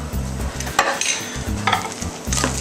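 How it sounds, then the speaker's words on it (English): Loud, steady sizzling of food frying in a pan, with scraping and stirring noises breaking through in bursts over a low rumbling hum. "listen to that sizzle"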